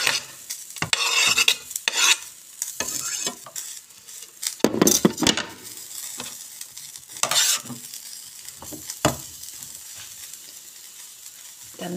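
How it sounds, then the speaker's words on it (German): Aubergine sizzles in a frying pan while a utensil stirs and scrapes it, giving repeated close scraping strokes over a steady hiss of frying. "Jetzt werde ich die Aubergine in die Pfanne geben."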